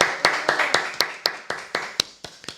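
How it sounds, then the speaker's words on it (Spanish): An audience at an art talk claps in a quick, even rhythm of about a dozen sharp hand claps, close and fairly clear, with no voices over them. "Un aplauso, por favor."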